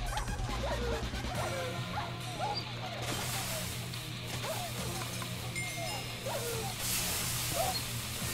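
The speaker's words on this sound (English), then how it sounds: "The dogs are insane!" A pack of dogs in a video game dog pound barks, yips and whimpers in repeated short bursts over a continuous game background hum.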